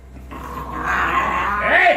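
Bulldogs growling and yipping at each other in rough play inside a kennel pen, a steady low rumble with snarls rising toward the end, close and continuous.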